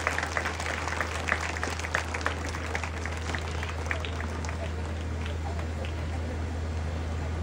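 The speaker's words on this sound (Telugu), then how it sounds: "గట్టిగా మరొక్కసారి చప్పట్లతో ధన్యవాదాలు తెలియజేస్తున్నాం" Applause rises from an audience at the Siddarameshwar Temple, Rameshwarpally, a steady patter of clapping with a low hum underneath, fading gradually.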